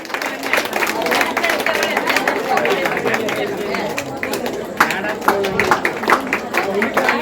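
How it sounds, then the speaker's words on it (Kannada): Scattered applause at a children's merit award ceremony at a temple, uneven claps rising and falling under busy crowd chatter and a voice speaking nearby. "ಚಪ್ಪಾಳೆ ಬರಬೇಕು"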